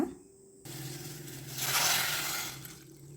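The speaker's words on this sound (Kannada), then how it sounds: "ಈಗ ಇದಕ್ಕೆ ನೀರು ಹಾಕಿ ಬೇಯಲು ಇಡೋಣ" Water poured into a cooking pot of cut ash gourd pieces for a traditional sambar, a rushing splash that swells midway and then tapers off, heard up close with no talking.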